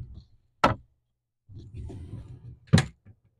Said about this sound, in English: to maximize space, I got a pocket door